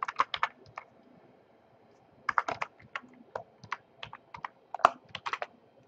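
Computer keyboard keys clatter in short, irregular bursts of close, crisp taps as a username and password are typed in, with a pause of about two seconds between bursts and no voice.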